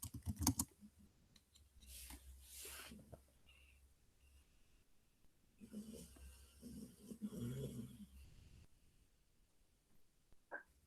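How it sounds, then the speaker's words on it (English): Faint computer keyboard typing in a quiet room, soft scattered keystroke clicks coming in loose bursts with pauses between them. "Looks like someone's typing in there."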